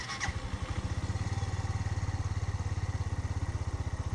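Motorcycle engine catching after the start button is pressed and settling into a steady, rapid idling putter, close and fairly quiet.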